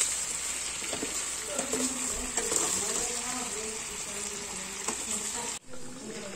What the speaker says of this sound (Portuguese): porque a carne já tá fritando